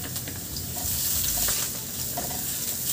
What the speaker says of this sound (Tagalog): magisa muna ako ng bawang at luya